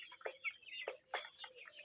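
Bahama chickens cluck and chirp in short bursts at a poultry farm, several brief calls spread across the moment at moderate distance, no voices.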